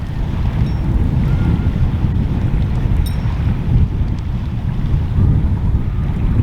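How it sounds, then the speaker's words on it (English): Wind gusting at Langstone Harbour entrance while fishing, a constant loud low rumble buffeting the microphone, with faint water and boat sounds beneath and no talk. "We've got a bit of a wind coming from the corner of Haley Island."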